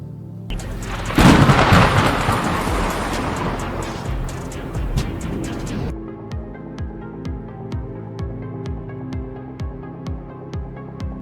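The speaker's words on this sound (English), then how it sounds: "A blinding lightning bolt tore through the sky, striking the rooftop and illuminating the entire neighborhood." Thunder from a lightning strike hitting a rooftop: a loud, crashing rumble breaks out and rolls on for several seconds before cutting off into a quieter stretch of sparse, regular ticking sounds.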